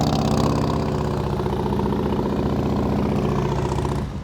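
A motorcycle engine held at low throttle during slow-speed riding practice, a steady, close, mid-pitched idle-like drone with a faint pulsing rhythm that fades slightly at the end.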